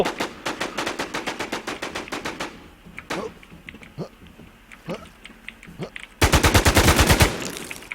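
Rapid automatic gunfire in the WarZ video game, a long burst of close machine-gun shots, then scattered single shots and movement noises, then a second loud sustained burst near the end.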